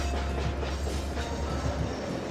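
Continuous rumble of a train rolling along the track in Chris Sawyer's Locomotion, a steady dense wash with faint clickety-clack, with no speech.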